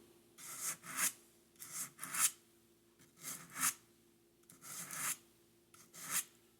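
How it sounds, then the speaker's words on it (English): Sandpaper rubbed along the angled edge of a small wood block for a model street scene, in about eight quick rasping strokes grouped in pairs, close and fairly quiet with brief pauses between. "take your sandpaper and hold your block of wood at an angle"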